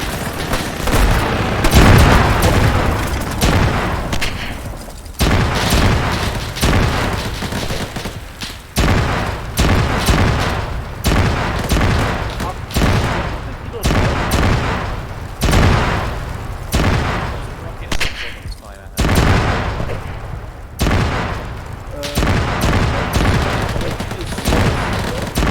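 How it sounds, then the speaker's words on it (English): Sustained bursts of gunfire from an ambush in a Baltic military campaign game, rapid volleys and booming shots repeating loudly and close throughout, with little pause between bursts. "Oh, they're shooting."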